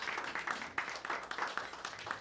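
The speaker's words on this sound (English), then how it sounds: "So one more round of applause." A small audience at a film screening and podcast launch event claps briefly, a faint, scattered round of applause with distinct individual claps and some murmur.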